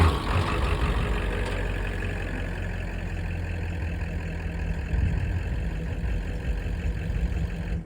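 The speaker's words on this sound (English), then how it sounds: "This is my farm truck." Ford OBS farm truck with a 5.8L gas engine running at a steady idle, a loud, even low rumble that holds throughout.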